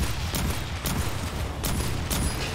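Automated turret gunfire in the Aliens: Fireteam Elite video game, with two turrets set up: loud, dense bursts of rapid shots in roughly regular volleys, close and sustained without any voices.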